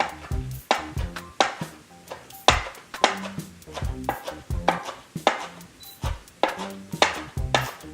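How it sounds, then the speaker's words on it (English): A knife rough-chops fresh cilantro on a cutting board for mango salsa, a steady run of sharp, rhythmic thuds roughly twice per second, close and loud, with no voices. "I'm just going to give this a good rough chop."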